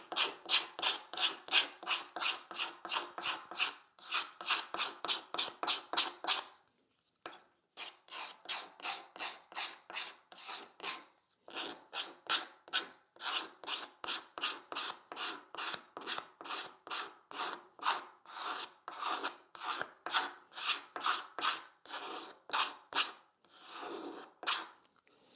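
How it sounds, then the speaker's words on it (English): Card scraper shaving the end grain of a wooden leg, a long run of quick rhythmic rasping strokes with brief pauses, close and steady. "the card scraper can still do this. It just sounds and feels a little different."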